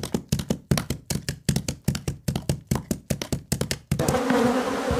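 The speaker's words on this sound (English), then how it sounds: "Good Lord, enough bees to kill 100 horses here." A quick run of sharp, rhythmic taps gives way to a dense, steady buzz from a large swarm of bees close by, loud and continuous to the end.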